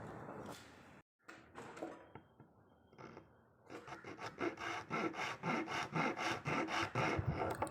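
Handsaw cutting through wood for a handcrafted wooden penholder: a short bout of rubbing, then steady rhythmic back-and-forth strokes, about a dozen, loud and close, with no talk.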